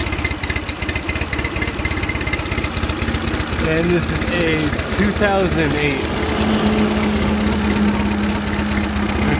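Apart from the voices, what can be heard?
outboard motor engine idling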